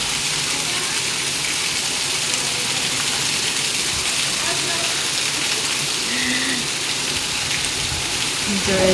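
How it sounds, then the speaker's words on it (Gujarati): Steady, dense hiss of heavy monsoon rain pouring down continuously in Surat, loud and close, with faint voices murmuring underneath. "અટાણે જો જોરદાર સુરતમાં બારિશ આવે છે, વરસાદ જોરદાર આવે છે."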